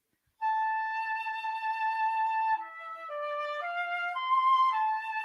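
Yellowstone National Park geyser eruption data rendered as music: a held synthetic tone gives way to a sequence of stepping melodic notes, clean and electronic, with no voices.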